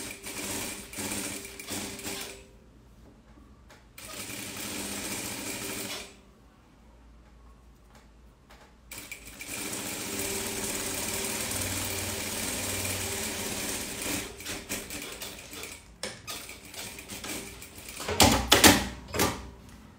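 A sewing machine stitches a fabric top in several close, steady bursts of whirring with quiet pauses between them, and a brief clattering flurry comes near the end.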